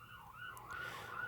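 A siren wails faintly in the distance, a steady wavering tone drifting over quiet background hum.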